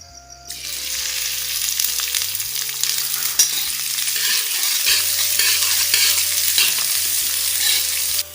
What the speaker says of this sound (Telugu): 4 ఉల్లిగడ్డలు ఫ్రై చేసుకోవాలి.